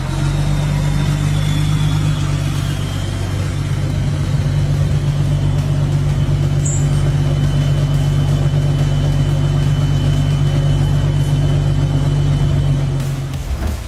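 Heavy off-road trucks sliding and driving through terrain, a loud continuous engine rumble and drone that holds steady for the whole stretch before cutting off at the end.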